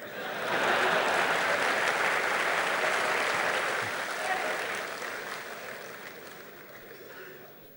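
Sustained applause from a large audience at the JITO Annual General Meeting 2012, a dense wash of clapping that swells and then slowly fades away.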